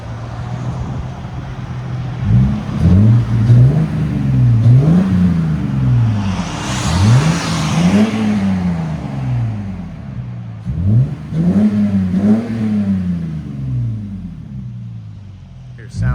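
Exhaust note of a 2001 Lexus IS 300 with the 2JZ-GE 3.0L inline-six and Greddy cat-back system, revved in several swelling bursts that rise and fall over a steady idle, loud and close.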